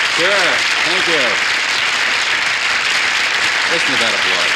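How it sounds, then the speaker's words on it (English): A studio audience at a 1970 television comedy hour applauds in a dense, sustained wash of clapping, loud and close, while a voice briefly calls out over it. "Listen to that applause, huh?"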